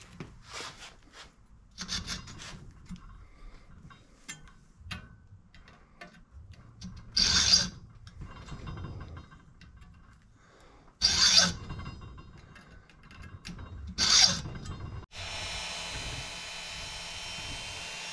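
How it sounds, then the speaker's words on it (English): A file draw cutting a slot into a flathead screwdriver, heard as a few distinct close rasping strokes separated by quieter stretches of handling, with a steady broadband hiss near the end. "I'm draw cutting a flathead screwdriver"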